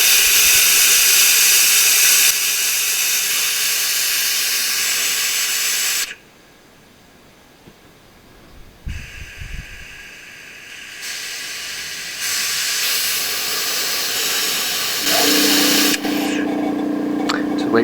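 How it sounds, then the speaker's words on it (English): An air compressor runs during brake bleeding on a Mk7 Ford Transit after an ABS unit replacement, giving a loud, steady close hiss that drops away for a few seconds midway, then resumes. "Just wait for the compressor."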